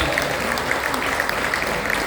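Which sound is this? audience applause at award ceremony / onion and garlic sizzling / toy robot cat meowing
audience applause at award ceremony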